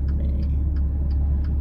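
Trash truck driving by on the road, a steady low engine rumble with faint periodic ticking, heard from inside a car with the noise holding level throughout.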